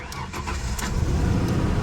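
A police car at a Copart auction yard starts roughly, with a few uneven cranking bursts before its engine catches and settles into a steady, close low rumble.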